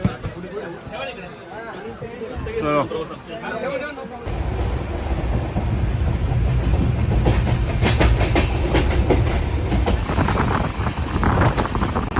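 People talk in a crowded passenger train carriage, then the moving train takes over: loud rumbling with rhythmic clickety-clack of wheels on rails, close and continuous.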